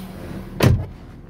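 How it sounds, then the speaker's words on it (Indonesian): A car door being shut from inside, a single close thud that stands out against a quiet interior before fading. "Kita tutup pintu."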